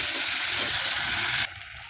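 Masala sizzling in hot oil in a pan for chholar dal, a steady close frying hiss that cuts off abruptly near the end, leaving a quieter simmer.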